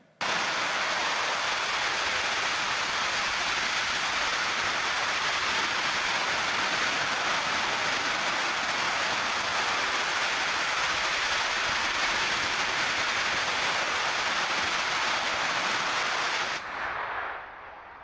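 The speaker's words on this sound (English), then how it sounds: "Stoke Space conducted a static fire on Tuesday in preparation for a hop soon." A Stoke Space rocket engine runs in a static fire test, a loud steady broadband roar sustained for about sixteen seconds before cutting off abruptly into a fading rumble.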